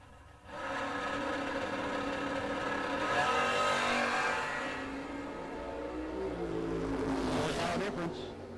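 A 1974 Camaro and a 1979 Blue Boo launch side by side at a door car drag race, a loud sustained engine roar that swells and holds, then rises in pitch as they pull away, with no talk over it.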